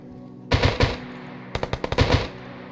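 Rapid gunfire in a video game shooter comes in two short automatic bursts of sharp, punchy shots, loud and close with a brief gap between them.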